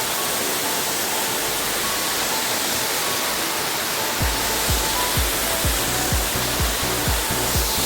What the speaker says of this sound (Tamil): இது கருமுட்டி ஒரு ஃபால்ஸுன்ட்டு ஒரு இடம் இருக்குது பாருங்க